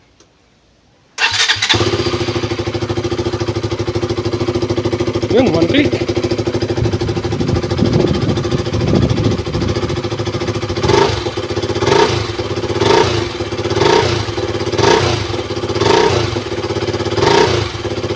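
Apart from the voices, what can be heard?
KTM Duke 200 motorcycle engine starting and running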